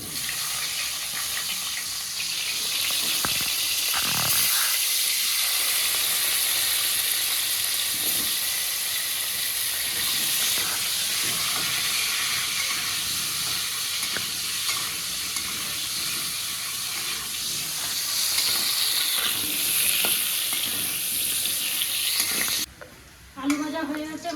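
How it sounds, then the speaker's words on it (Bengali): Potatoes fry in oil left over from frying pointed gourd, a continuous close sizzle with stirring scrapes throughout and a brief clatter near the end. "পটল ভাজার তেলে আলুটা ভেজে নেব"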